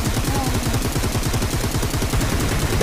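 Rapid automatic gunfire rattles in a sustained burst in the mobile battle royale game Peacekeeper Elite, loud, close and continuous throughout, with no voices heard.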